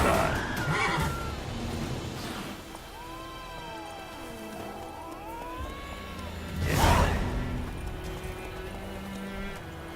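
A horse in the video game The Witcher 3 neighs in two loud, drawn-out whinnies, one at the start and one later. Softer snorts, hoof clops and game ambience fill the gap between them.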